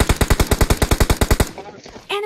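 Rapid automatic gunfire in a video game custom match, a fast run of about fifteen evenly spaced loud shots that stops abruptly. A voice follows briefly in the quieter tail.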